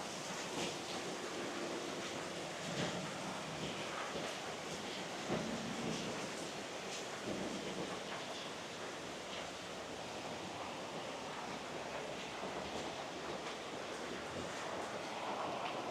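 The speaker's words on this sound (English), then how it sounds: "Yeah, it's pretty windy." Strong wind during a monsoonal storm in Innisfail, Australia, a loud, continuous broadband rush with gusty swells, heavy wind buffeting across the microphone, and no talk.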